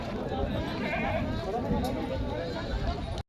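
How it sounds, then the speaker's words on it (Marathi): Goats bleat repeatedly amid a noisy crowd of people talking at a goat market in Kalamnuri, Hingoli, the animal calls mixed into constant chatter close by. "हे दोन बकरी आहेत ना हे दोन बकरी आहेत"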